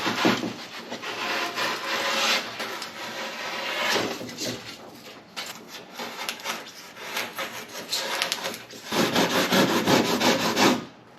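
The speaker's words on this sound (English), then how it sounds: "I'm gonna keep trimming with the blade until I get it like pretty close to where I want it" A blade shaving and scraping along the edges of fiberglass van wheel flares, a close, continuous rasping with repeated rough strokes, louder toward the end and with no speech.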